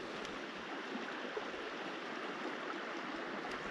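Swift water in a clear trout stream rushes in a steady, broad hiss, even and continuous with no voices.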